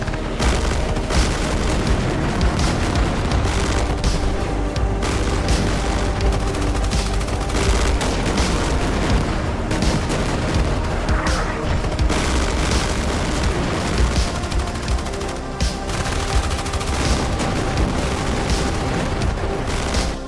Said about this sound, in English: get some mortars on them